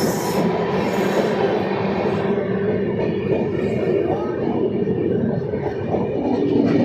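Budhpurnima Express, a new LHB-coach train hauled by a WAP-7 locomotive, passing close by: a loud continuous roar of rolling wheels with rhythmic clatter and a faint high squeal, steady for the whole stretch.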